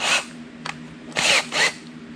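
A power drill spins a metal T-dolly workpiece built from hardware store parts, giving three short, whirring bursts separated by brief pauses, fairly close and moderately loud.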